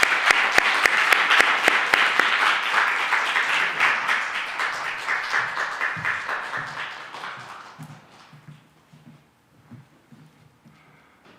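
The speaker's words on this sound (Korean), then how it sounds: "뜨거운 박수로 하겠습니다." A church congregation applauds warmly, the clapping dense at first, then thinning out and fading away as a few voices murmur underneath.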